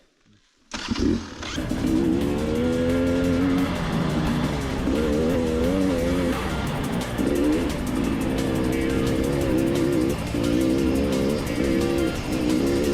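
A KTM EXC 300 two-stroke enduro motorcycle riding in the Carpathians near the village of Kosmach, starting up abruptly and then running with a loud, steady, close engine drone that rises and falls across the whole stretch.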